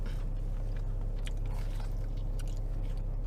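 Biting and chewing a battered sausage from a chip shop, steady close crunchy mastication sounds repeating throughout with no talk.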